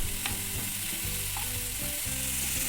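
Chicken pieces shallow-frying in a little oil for an Afghani chicken curry give a loud, continuous crackling sizzle, with light clinks of stirring throughout and no voices.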